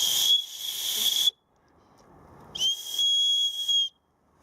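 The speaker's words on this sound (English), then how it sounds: "this striker doubles up as a whistle" A whistle built into a fire steel striker is blown twice, each a piercing shrill tone lasting over a second, close and loud, separated by a short quiet gap.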